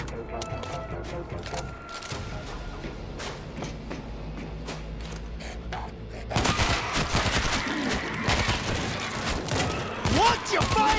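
Gunfire in the zombie shooter World War Z: Aftermath: a steady clatter of shots under muffled voices, then a louder dense burst of rapid automatic fire from about six seconds on, with a voice speaking over it.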